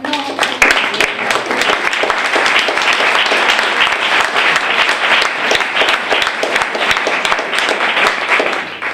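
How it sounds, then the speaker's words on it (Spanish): Audience applause at a lecture event, dense and sustained clapping from a room full of people, loud and even throughout with sharp individual claps rippling through the wash. "otro aplauso para vosotros"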